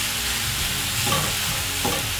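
Minced beef frying in a pan, a constant close sizzle with scraping spatula strokes breaking up the meat, a couple of firmer stirs standing out over the hiss.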